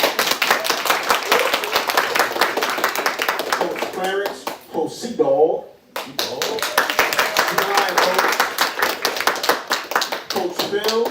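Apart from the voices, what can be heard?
audience clapping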